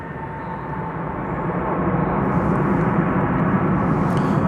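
An American Airlines airliner at DFW Airport gives a rising, steady jet roar that grows louder over a few seconds, heard at a distance without speech.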